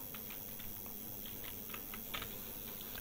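Code is typed on a computer keyboard in a quick, uneven patter of light key clicks, faint and close against a low background hiss, with no voices.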